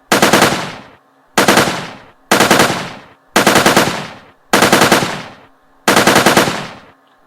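Six bursts of rapid automatic gunfire come from a first-person shooter built in Unity, each burst a loud, crackling rattle of about a second, separated by short silent gaps.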